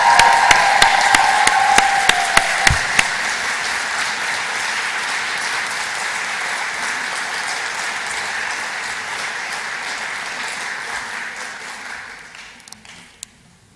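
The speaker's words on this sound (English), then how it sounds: "Right, folks, this is the biggest cheer." Graduates at the West Lothian College graduation ceremony cheer and applaud loudly and steadily in a large hall, a dense roar of clapping and shouts that holds for most of the stretch before tapering off near the end.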